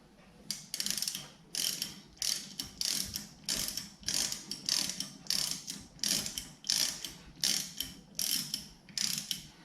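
A ratchet wrench cranks a rear caliper bolt on a 2009 Scion xB, giving about fifteen quick, close bursts of clicking in a steady back-and-forth rhythm with brief pauses between strokes and no talk.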